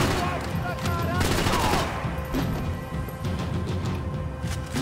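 Dense, sustained gunfire from the Max Payne 3 video game, with loud overlapping shots that roll on without a break for the whole stretch.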